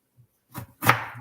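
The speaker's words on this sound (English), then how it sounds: "Just chop them up." Raw beets are chopped with a not very sharp knife on a board, giving a few close, dull knocks, one faint and two stronger, in a quiet room.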